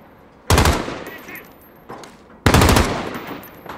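Two loud, close bursts of rapid gunfire from a high-recoil weapon in Call of Duty Warzone, each a short automatic volley with a quieter shot between them, no talk.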